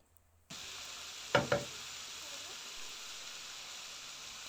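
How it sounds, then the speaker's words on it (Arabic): Red and green bell peppers frying in a pan, a steady mid-level sizzle that starts abruptly, with two sharp clatters from a utensil in the pan early on, then an even hiss. "نقليهم شوية"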